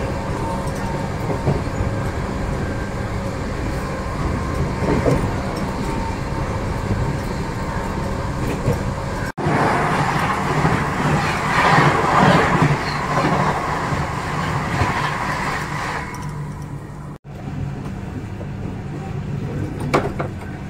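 Local train in India passing close by, a loud continuous rumble with rattling clickety-clack of wheels on rails, the noise swelling and shifting as carriages roll past over about twenty seconds.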